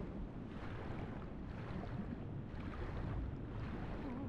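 Muffled underwater ambience from Far Cry 3 as the player character swims through a flooded cave, a steady low rumbling wash with gentle swelling pulses and no speech.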